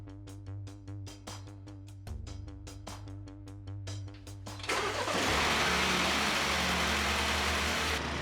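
A MINI Cooper fitted with a Paddy Hopkirk hard intake pipe cranks with a rapid rhythmic starter chatter, catches, and settles into a loud, steady running engine close by.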